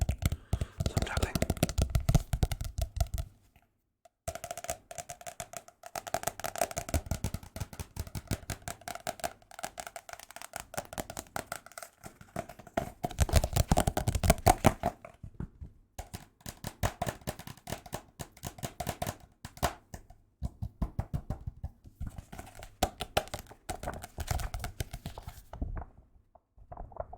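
Fingertips tap steadily on old Prima strategy guides, a dense, close, quiet patter of light knocks that continues for nearly half a minute, broken by a few brief pauses.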